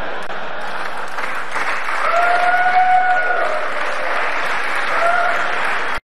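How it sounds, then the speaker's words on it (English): A television studio audience breaks into sustained applause at a comedic line about Trump, a dense, steady clatter of many hands lasting several seconds before cutting off abruptly, with a faint tonal whine running through it. "all of these idiots that are applauding for it"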